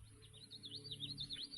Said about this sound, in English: Never heard a grackle make that noise.